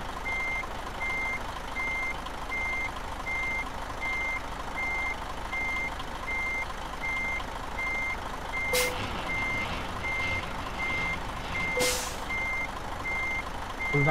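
Truck backing a trailer in Euro Truck Simulator 2, with a steady run of evenly spaced reversing beeps over a low engine rumble and two sharp air-brake hisses near the end.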